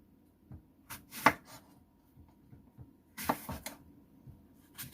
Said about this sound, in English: Then I'm gonna cut. I'm gonna add an apple.